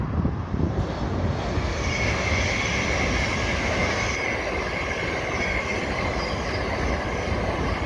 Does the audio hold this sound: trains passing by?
yes